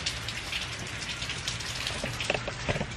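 Steady rain falling outside, a dense even hiss of drops with occasional louder close splatters, continuous and fairly near, with no voices.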